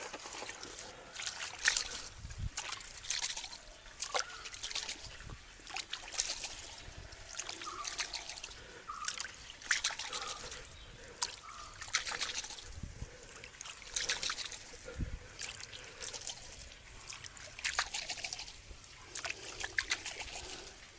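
Water trickling from a garden hose pipe onto freshly planted pumpkin seeds in a home plot, a faint irregular splashing and dribbling heard at low level throughout, with occasional louder spatters.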